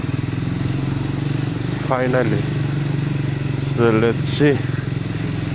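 A motorcycle engine chugs steadily up close during a gear change, its pitch shifting slightly, while a person talks briefly over it.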